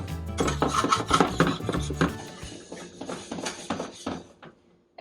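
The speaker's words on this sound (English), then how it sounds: "We're just going to continue to scrape the pan and let the flour cook here till we get a nice consistency" A utensil scrapes a roasting pan as flour cooks into gravy, giving a busy run of rasping and clinking strokes that fade toward the end.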